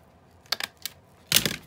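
A stapler snaps through a paper page tag for a children's book junk journal, giving a few light clicks and then one louder, sharper crunch of the staple going in, close and crisp.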